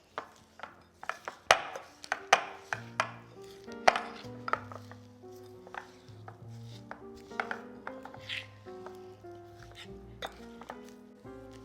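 A spoon knocks and scrapes in a bowl as seasoned butter is mixed for a prime rib rub, making a run of sharp, close taps and clatters that thin out into softer scraping.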